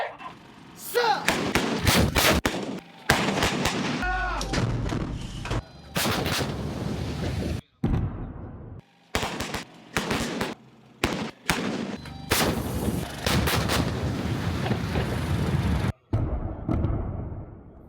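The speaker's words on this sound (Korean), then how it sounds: "육군 7포병여단이 실전형 포탄 사격을 진행했습니다" Army artillery brigade's live-fire shelling drill: a rapid series of heavy booming shots and thuds in bursts, some closely spaced, with shouted commands and a news narrator talking between and over the blasts.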